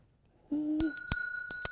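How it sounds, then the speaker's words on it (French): A small Christmas bell rings in a few bright, sharp dings at an indoor holiday game, each strike ringing on with a high metallic tone, close and clear with no talking. "j'ai fait sonner la cloche"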